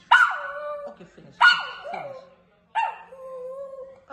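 A dog barks in three sharp bursts with whiny, yelping tails, close and loud, reacting to a new landline phone's ringtone; no phone tone stands out clearly between the barks.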